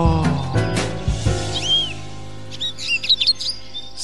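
Cartoon birds chirp in a quick run of high tweets and warbling calls over light music, with a few bright upward sweeps and a busier flurry of chirps near the end.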